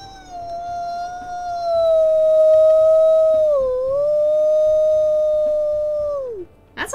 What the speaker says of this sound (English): He's got a bit of a deeper howl here.